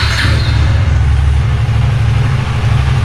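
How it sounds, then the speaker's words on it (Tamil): A motorbike engine started by a remote command from a SANA GPS unit idles with a steady low rumble, close and fairly loud, with no voices over it. "ஸோ இப்போ வண்டியும் எனக்கு ஆன் ஆகிடுச்சு"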